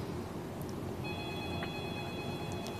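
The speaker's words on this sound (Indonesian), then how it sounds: "Ada telepon yang sudah masuk" A phone rings for an incoming call during a Ramadan fasting talk broadcast, a thin high electronic ring that starts partway in and repeats at low volume over steady room hiss, with no talk.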